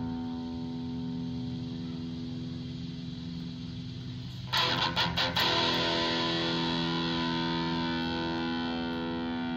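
An electric guitar played through a Tank G amp modeler rings out in sustained, distorted chords, with a fresh strummed attack partway through that lets the saturated tone hang and slowly decay, no voices.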